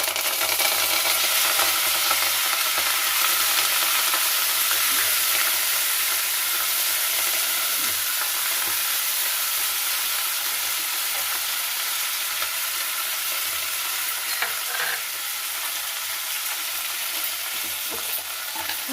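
Freshly washed fenugreek leaves go into a pan with spinach for a home-style fry, giving a loud, continuous sizzle and hiss that runs unbroken with faint stirring scrapes.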